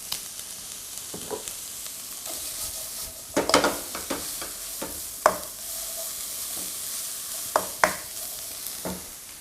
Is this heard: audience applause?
no